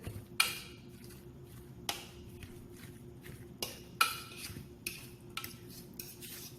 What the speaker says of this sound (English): We're gonna mix this very well.